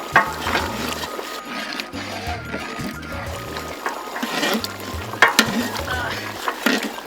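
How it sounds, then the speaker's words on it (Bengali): Mezbani meat curry being stirred in a large pot over a charcoal fire, with steady scraping and churning in repeated strokes and a faint sizzle underneath, close and moderately loud. "দেখি একটু শেষ নাড়া দিয়ে দিই।"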